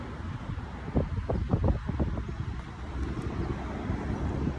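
Gusty outdoor wind buffets the microphone in a steady low rumble, with brief rustling bursts early on and a faint distant hum beneath, no voices.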